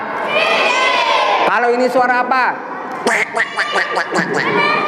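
A duck quacks in a rapid series of loud, close calls during a children's guessing game, with an adult voice and kids chattering over and around the sound.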